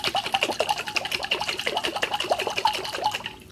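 Rapid rhythmic sloshing and swishing of thick, unset homemade carnauba liquid wax shaken back and forth inside a jar, close and steady, fading at the end.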